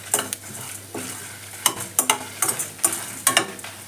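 Spices roasting in a pan over a low flame, rhythmic scraping stir strokes about every half second over a soft continuous sizzle, close and clear, with no voices.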